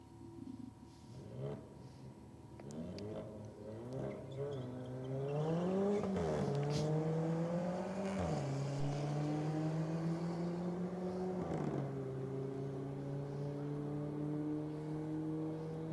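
Racing cars on a track, a Mercedes AMG and a small 1.7-litre turbocharged Alfa Romeo, roar past with engine notes rising and falling through gear changes, loud and continuous with a gradual approach.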